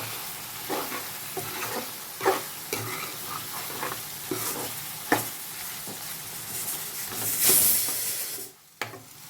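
Chicken frying in a pan with garam masala, a steady sizzle broken by repeated scraping knocks of a spoon stirring the pieces, with a brief louder hiss of steam near the end.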